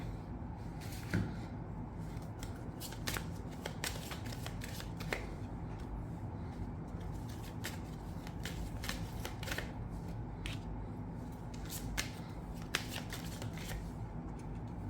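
Tarot cards are shuffled close by, soft papery riffles and quick flicks in irregular bursts over a steady low room rumble, quiet and unaccompanied by any voice.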